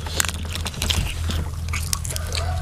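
Biting into the crisp skin of a whole roast suckling pig, with sharp crackling crunches and chewing heard close up over a couple of seconds.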